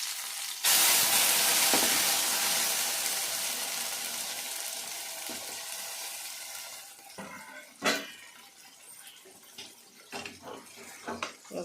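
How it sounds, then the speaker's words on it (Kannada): A tempering of oggarane is tipped into a hot pan for a Kannada dry fish sambar. It hits with a loud, sudden burst of sizzling that slowly fades, followed by a few clinks and scrapes of utensils. "ಇವಾಗ ಒಗ್ಗರಣೆ ಹಾಕ್ತಾ ಇದ್ದೀನಿ"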